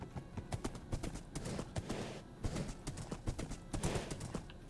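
Horse hooves clip-clop in a PC video game, a quick, steady run of close hoofbeats with occasional louder strikes, continuing for several seconds with no talking.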